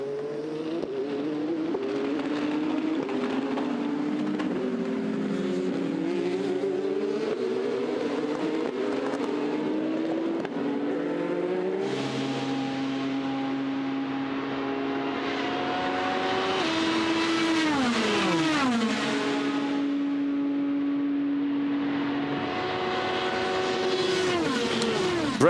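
Race cars at the 24 Hours of Le Mans 2020 roar past in succession, engines climbing and dropping in pitch as they approach and pass, loud and continuous with overlapping passes.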